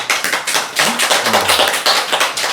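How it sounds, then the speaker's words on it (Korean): A small audience at a talk on Zen poetry claps together in thanks, a brief run of close, distinct, fairly regular claps lasting a couple of seconds. "자, 이 감사 박수 좀 씁시다."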